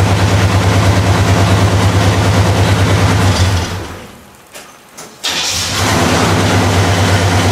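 An old tractor engine runs loud and steady with a deep, rumbling muffler note, then cuts out briefly for about a second and fires back up, running on strongly to the end.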